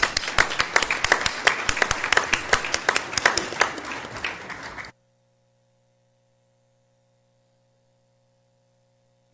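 A round of applause for cheer squads at a school board of trustees meeting, a brisk burst of many hands clapping for about five seconds before cutting off abruptly to silence with a faint electrical hum.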